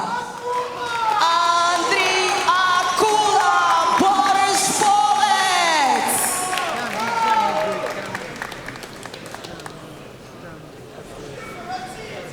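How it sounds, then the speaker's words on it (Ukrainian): Boxing crowd at a pro bout in Kyiv, cheering, whoops and clapping swelling under a ring announcer's amplified voice, then thinning to scattered claps and murmur. "Вітайте оплесками гангстера із Києва."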